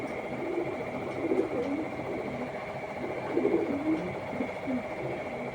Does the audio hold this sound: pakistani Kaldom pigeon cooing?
yes